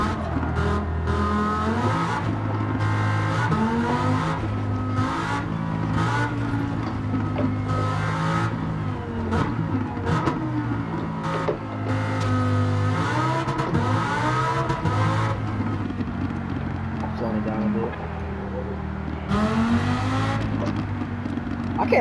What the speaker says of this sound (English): I can't lie, this Huracan sounds amazing. Holy shoot, the downshift.